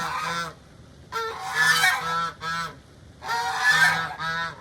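Several geese honk close by in repeated bursts, loud nasal calls overlapping with short quiet gaps between them.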